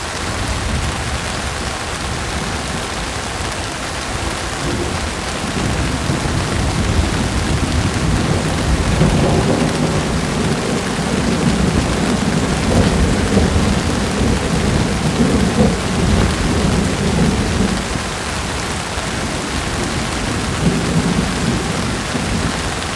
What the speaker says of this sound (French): il y a l'orage qui arrive avec la pluie